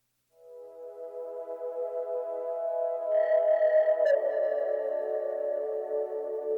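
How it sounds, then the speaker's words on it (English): A sustained wailing electronic feedback tone swells and thickens, washed in a long hall reverb tail from a CXM 1978 reverb unit, gradually growing louder with no other sounds. "there's just something about the body on this hall reverb that I really enjoy for this track"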